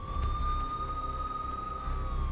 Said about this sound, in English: And some really annoying sirens in the background.